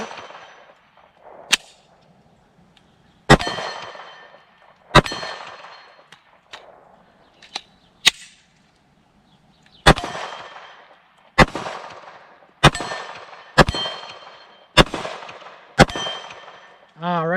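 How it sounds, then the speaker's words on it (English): Smith & Wesson M&P 45 pistol firing .45 ACP rounds outdoors, about ten loud sharp shots spaced irregularly a second or two apart, each with a ringing clang and a short echo tail. "Now we're going to try it with my Smith & Wesson M&P 45 here. See how 45 ACP does with this."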